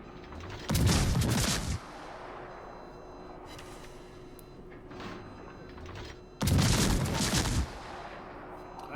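Naval guns firing shells in the World of Warships video game: two loud, rumbling salvos about six seconds apart, each roaring for roughly a second, with quieter distant booms and steady engine hum between them.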